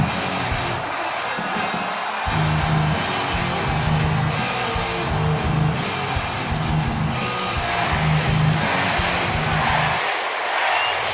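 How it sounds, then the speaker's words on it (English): A video game arena crowd in WWE 2K 2008 chanting the name Randy, a steady roaring mass of voices with a rhythmic repeated chant pulsing through it, loud and continuous throughout. "the crowd chanting Randy"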